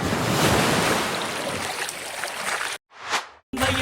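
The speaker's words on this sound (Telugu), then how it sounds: "ఇప్పుడు మనకి సునామీ రాబోతుంది." Ocean waves used as a comic tsunami effect, a steady broad roar of surf and wind that runs for several seconds, cuts off abruptly, then comes back in a short swelling burst before a final hard cut.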